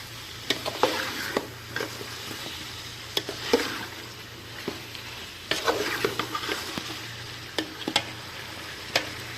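A spoon scrapes and clacks against a pan while cauliflower and chicken curry is stirred and mixed, irregular knocks over a soft sizzling frying hiss, close and fairly quiet.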